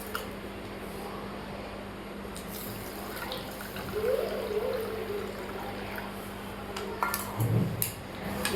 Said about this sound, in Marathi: आणि यामध्ये आपल्याला टाकायचं आहे गरम पाणी